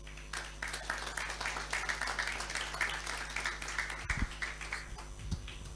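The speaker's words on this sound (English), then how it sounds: "Can we please give our hosts another round of applause, please?" Audience at a fellows luncheon applauds in a room, a steady, moderately dense patter of clapping hands that carries on for several seconds over a low hum.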